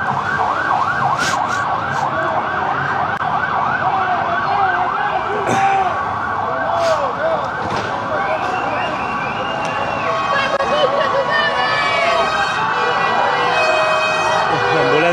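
An ambulance siren wails continuously in repeating rising and falling sweeps, fairly loud amid street noise and distant voices during a protest at Plaza de la Dignidad, Chile.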